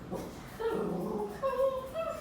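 A dog yaps and whines in agitated, high-pitched bursts at a passing dog in the street, several yelps in quick succession, fairly close.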